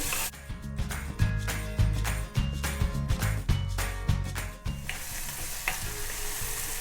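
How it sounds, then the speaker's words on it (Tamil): Tomato and onion sautéing in a pan, with close, rhythmic scraping and knocking of a spoon stirring against the pan over a bright sizzle that swells into a steady hiss near the end. "தக்காளி வெங்காயம் நல்லா வதங்கிடுது"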